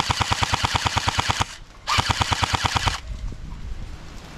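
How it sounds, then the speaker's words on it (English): Airsoft light machine gun firing in a rapid, steady stream of shots, two long bursts broken by a short pause, loud and close, with ambient outdoor noise trailing after. "Well, I got a machine gun."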